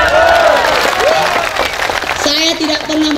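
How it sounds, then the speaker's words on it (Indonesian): Audience applause breaks out at a humorous Bugis-language religious sermon, dense clapping mixed with crowd noise while a voice talks and sings over it throughout. "Tepuk tangan dulu."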